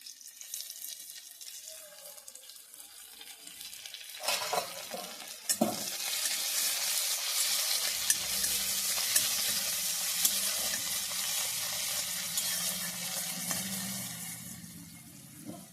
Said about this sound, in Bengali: এরকম করে আমি ভেজে নিয়েছি মাঝে আমি দু একবার নেড়েছি